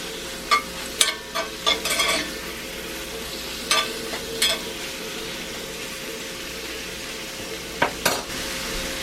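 A little meat sizzles in a cast iron pan for a hot pastrami sandwich, a steady close hiss broken by about a dozen clicks and scrapes of a utensil stirring, no talking.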